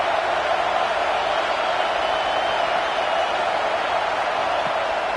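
A stadium crowd in a football video game roars steadily as the defense pins the offense deep in its own end, giving a dense, constant wash of noise with no break and no commentary over it.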